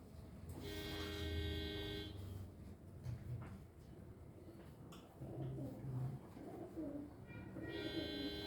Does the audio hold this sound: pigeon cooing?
yes